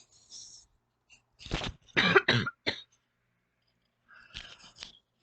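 Several harsh coughs come in a short cluster, close and fairly quiet, with a few brief throaty sounds before and after amid silence.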